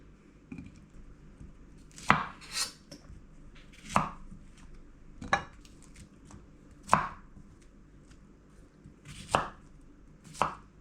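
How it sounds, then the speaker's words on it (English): A knife chops through vegetables, cauliflower or carrot, on a cutting board: about seven sharp, close, evenly spaced strikes roughly every second and a half, with no talking. "I'm gonna just slice it in half like that"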